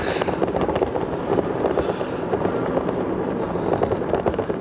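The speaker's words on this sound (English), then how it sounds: "Oh, you can hear the noise from those tyres now." Fat tyres of a Himiway Cobra off-road e-bike roar along the ground as it rides at speed, a continuous loud rumbling hum mixed with wind buffeting.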